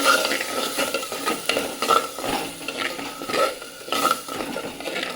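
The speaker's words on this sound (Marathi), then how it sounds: "तेलावर परतून घेणार आहे, म्हणजे फोडणीवर परतून घेणार आहे." Green chilli paste sautéed in hot oil tempering for a Marathi-style fish curry, with a steady sizzle and frequent scraping, stirring strokes of a spoon against the pan, close and clear with no talk.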